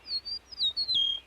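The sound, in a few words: meadowlark call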